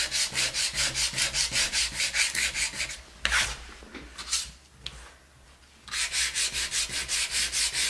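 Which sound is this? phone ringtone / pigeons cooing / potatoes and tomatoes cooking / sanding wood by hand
sanding wood by hand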